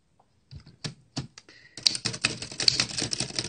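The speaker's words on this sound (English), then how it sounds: "So you can see, do a little typing for you." Keys clack on an antique Woodstock typewriter with no ribbon, a few sparse isolated strikes giving way to a rapid run of loud, close mechanical clacks.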